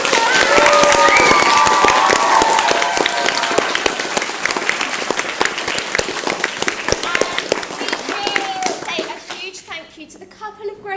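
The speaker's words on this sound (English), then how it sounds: "applause." A crowd at a Year 6 school play at St Saviour's breaks into loud, close applause with dense clapping and some cheering, then the clapping thins and scatters before fading near the end, children's voices mixed in.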